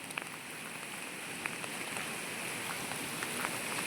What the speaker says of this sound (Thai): บรรยากาศก็อาจจะอึมครึมหน่อยนะ เพราะว่า ฝนตกนะครับ